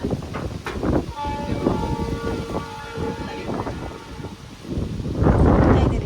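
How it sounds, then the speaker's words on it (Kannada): A train rumbles past close by, its horn sounding a long sustained blast over the clatter of wheels, with a voice briefly heard. "ಟ್ರೈನ್ ಹೋಗ್ತಾ ಇದೆ."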